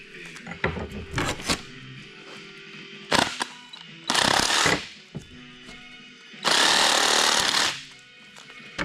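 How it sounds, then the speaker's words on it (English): A Sawzall reciprocating saw cuts through moose ribs in several loud buzzing bursts of about a second each, separated by pauses and clunks as the meat is handled. "Sawzall is really the way to cut these when you don't have a band saw"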